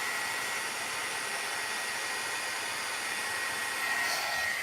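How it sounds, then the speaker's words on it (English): A heat gun blows steadily on an acrylic scrapbook embellishment, a continuous close, loud airy roar with a constant tone throughout, slightly stronger near the end, no talking. "the heat gun did melt it a little bit."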